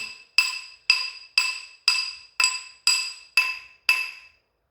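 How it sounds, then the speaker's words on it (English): A flat brass hammer strikes a silver ring made from a Morgan silver dollar, giving eight sharp metallic taps at an even, steady pace, each with a short ringing decay, close and clear. "So I'm going to use a brass hammer, flat hammer."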